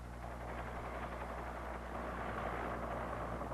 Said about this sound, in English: The CH-47 helicopter,